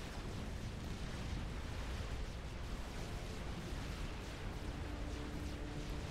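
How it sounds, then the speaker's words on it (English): Banger units repeatedly striking the frames of Janus units in a real-time strategy game battle, a dense, continuous rumbling barrage of impacts and explosions that stays loud throughout with no speech. "Or rather hear the bangers banging on the frames of the Januses."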